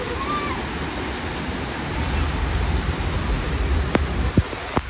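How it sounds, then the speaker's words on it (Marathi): A dangerous waterfall near Mumbai flows forcefully, producing a constant broad rushing roar that stays steady and close, with a few sharp clicks near the end. "धबधबा किती जोरामध्ये वाहतोय"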